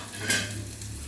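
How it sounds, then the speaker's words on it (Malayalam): Sliced onions sizzle steadily in hot coconut oil, a continuous close frying hiss with a brief louder burst as they hit the pan. "എണ്ണ നന്നായിട്ട് ചൂടായിട്ടുണ്ട്. അതിലേക്ക് സവാള ഉപ്പേരിക്ക്, അതായത് വിഴുക്കിന് അരിഞ്ഞു വെച്ചിരിക്കുന്നത് ഇട്ട് കൊടുക്കാം."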